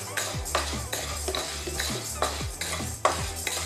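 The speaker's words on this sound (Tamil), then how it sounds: "லைட்டாக ஃப்ரை பண்ண போகிறேன்." Urad dal being lightly fried in a pan for instant idli batter, with a steady run of spoon scrapes and stirring clatter against the pan, no voices.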